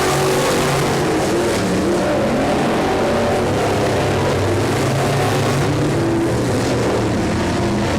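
Race cars roar around an oval short track in a steady, dense wash of engine noise, loud and continuous for the whole stretch with no clear passes standing out and no voices.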